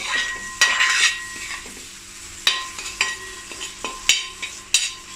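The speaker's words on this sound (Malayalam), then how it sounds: "നന്നായിട്ട് മിക്സ് ചെയ്യുക." A spoon stirs prawn masala for idiyappam biriyani in a pan, giving a string of sharp scraping knocks against the metal over a soft sizzle, close and clear with no talk.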